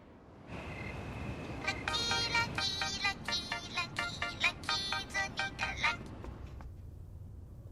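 Telephone ringtone with a repeated electronic melodic pattern, loud and close, playing in rapid pulses for several seconds before stopping, set in a drama scene.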